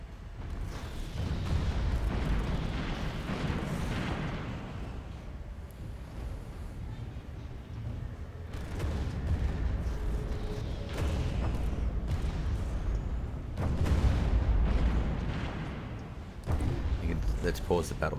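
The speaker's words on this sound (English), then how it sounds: "There we go, the firing torpedoes," Space fleet battle in the strategy game Stellaris, with cruisers and battleships firing torpedoes and missiles: a dense, continuous roar of booming blasts and rumbling explosions that swell in repeated waves, with someone talking over the combat.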